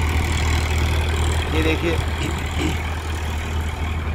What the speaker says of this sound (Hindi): मैसी 45 का दम देखिए, हैरो पट हैरो लेकर कितना बढ़िया चल रहा है